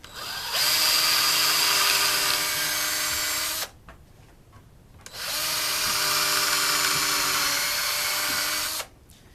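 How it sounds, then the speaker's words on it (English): Two long, loud whirring bursts from a power drill boring holes into plywood, separated by a short quiet pause. "all I'm going to be doing is drilling 2 holes in it"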